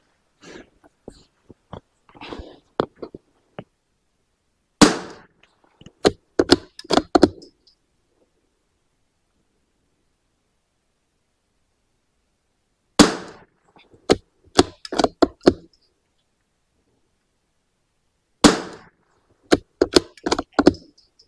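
Springfield 2020 .22lr rifle fired at a rimfire shooting match, sharp close cracks coming in three clusters of several quick shots each, separated by silent pauses.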